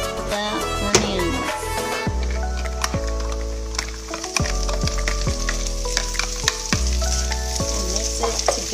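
Beefsteak and onion fry together in a pan with a steady close sizzle and occasional stirring, while music plays throughout.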